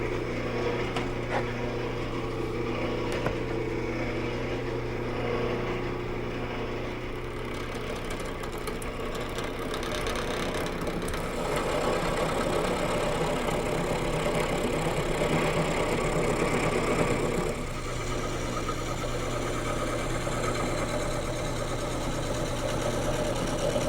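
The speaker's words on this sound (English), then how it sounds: "The first thing that I want to do is rough out this blank, making it round, using a gouge." A round chair-leg blank for a high chair being roughed out with a gouge on a spinning lathe, a continuous loud motor hum with rough, fluttering cutting noise layered over it throughout.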